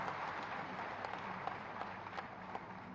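Applause welcomes a chief minister at a public inauguration ceremony: steady, dense clapping from a large crowd, heard at a moderate distance and fairly quiet, continuing evenly throughout.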